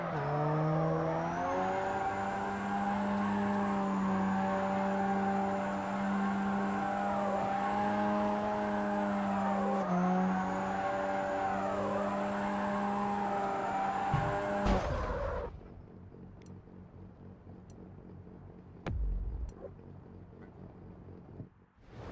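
A race car engine in a racing game drones at steady revs, dipping with slow, delayed gear shifts on auto clutch, then cuts off abruptly into near quiet with a few faint knocks.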